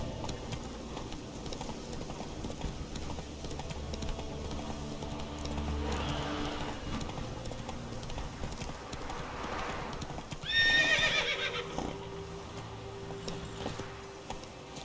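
The horse Roach gallops in The Witcher 3, a continuous rhythmic clip-clop of hooves with a short whinny and jangling tack near the end.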